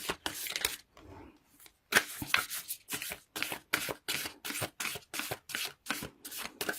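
Oracle cards from a Whispers of Love deck are shuffled in a quick run of crisp riffling bursts, each about a third of a second, repeating with short gaps, close by, with no speech.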